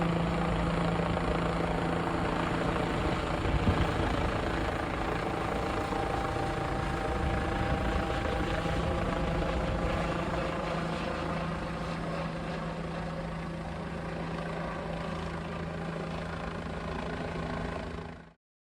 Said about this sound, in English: the helicopter is flying 80 kilometers per hour on a prescribed path